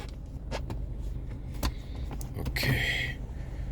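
A power window on a 2017 Alfa Romeo Giulia whirs upward inside the car. A short motor hum rises near the end among soft cabin clicks and handling noises.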